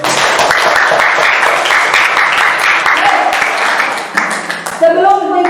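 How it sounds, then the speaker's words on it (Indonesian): Audience applause in an Indonesian school gathering, loud dense clapping that fades after about four seconds as a voice begins speaking over the tail end. "Satu tepuk tangan lagi."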